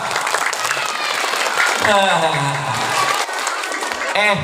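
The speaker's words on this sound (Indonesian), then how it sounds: "Tepuk tangan dulu dah" An audience of children at an Idul Adha religious gathering claps together in a dense, steady wash, with a voice or tonal sound running over the applause.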